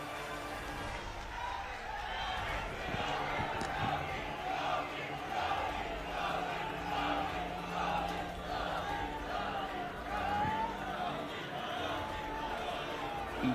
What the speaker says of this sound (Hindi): एक बार सब अपनी जगह से खड़े होकर के ताली बजा करके स्वागत करेंगे